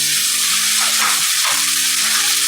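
Pasta masala fries with red chili powder and salt in a hot pan: a loud, continuous, close sizzle with faint low tones running underneath.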